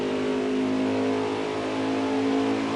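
An Xfinity Series race car runs at Homestead Miami, heard from on board as a steady, loud, buzzing engine tone held under throttle with no speech.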